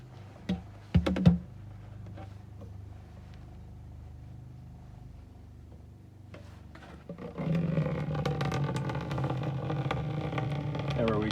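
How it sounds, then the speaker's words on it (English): Water pump in a 1973 GMC motorhome kicks on after a few seconds of quieter handling noises and a couple of sharp knocks, then runs as a steady, fairly loud whirring hum to the end. "that's our pump"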